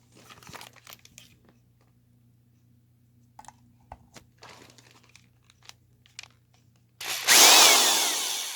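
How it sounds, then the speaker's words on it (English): After some quiet handling clicks and rustles, an electric drill suddenly whirs up loudly and runs steadily near the end. "plug in an electric drill."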